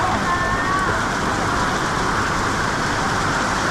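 Heavy rain pours steadily over Sampeng Market Lane in Bangkok's Chinatown, a dense unbroken hiss of drops on surfaces with faint street noise mixed in throughout.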